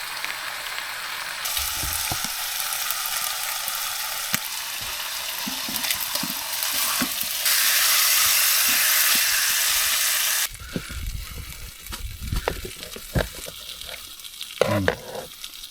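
Steak frying in a pan at a winter hot-tent campsite, a loud continuous sizzle and hiss that swells and shifts, with scraping and clattering near the end and no talk.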